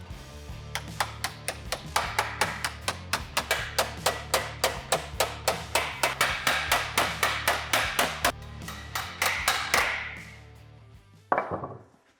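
Rapid, steady body hammer blows ring out bending sheet metal on a 1966 Ford F100 bed, dozens of sharp clanging strikes in a quick even rhythm, ending with a pause and one last hit.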